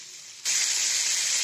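Ivy gourd (kundri) is stir-fried in a hot pan for a poppy-seed paste dish. A sudden, loud frying sizzle bursts in near the start and holds steady as a bright, close hiss.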